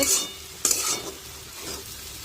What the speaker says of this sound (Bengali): চিনিটা দিয়ে নেড়ে ভালো করে নেড়ে নিচ্ছি